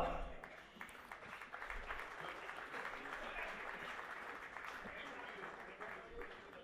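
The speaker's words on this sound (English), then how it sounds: "Can we have a round of applause for Mr. Munjal?" Applause from the audience at a summit debate as panelists are called up for mementos, a faint, continuous clatter of many hands that stays level for several seconds with a crowd murmur beneath.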